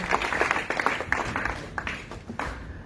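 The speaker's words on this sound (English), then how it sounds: "Another round of applause for our chairman of this occasion" An audience at a youth event applauds a chairman in a moderately quiet, uneven burst of clapping with scattered louder claps, not very dense.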